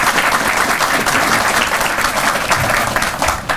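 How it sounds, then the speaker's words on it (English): Audience applause at a U.S. Army Corps of Engineers VA groundbreaking ceremony, a dense, steady round of clapping from a crowd, loud and continuous with no voices over it. "So now you can clap."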